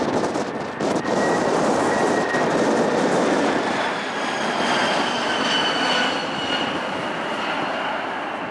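A Boeing 747-400 arriving from Tokyo at Chicago O'Hare in strong wind, a loud, broad engine roar swelling over a few seconds then easing, with a faint whining tone above it.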